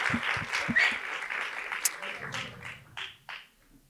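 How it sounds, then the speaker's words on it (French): An audience at a masterclass breaks into applause that starts moderately strong and fades within a few seconds, with some voices and scattered noises mixed in. "On peut les applaudir s'il vous plaît"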